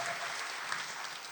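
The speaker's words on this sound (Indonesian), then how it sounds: "Tepuk tangan bagi Allah kita" During a Sunday service sermon, a church congregation applauds in a brief, dense burst of many clapping hands, continuous and fairly even throughout.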